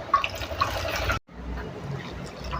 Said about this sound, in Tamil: இன்னும் கொஞ்சம் தண்ணி